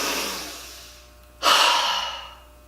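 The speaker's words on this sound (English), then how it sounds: "Slow, deep breaths." Slow, deep breathing close to the microphone: a long exhale fades out, a brief pause follows, then a strong airy inhale swells and tapers.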